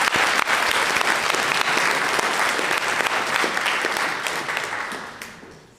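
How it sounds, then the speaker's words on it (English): A worship congregation gives the core team a full, dense round of applause that fills the room steadily, then fades out toward the end. "let's give them a round of applause"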